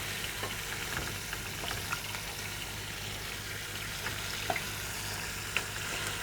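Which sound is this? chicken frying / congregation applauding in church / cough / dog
chicken frying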